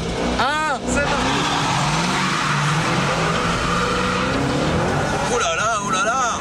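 A 2010 Shelby GT500 launching hard from a standstill with traction control switched off: loud engine roar with tires squealing and skidding throughout, a short voice at the start and more voices near the end.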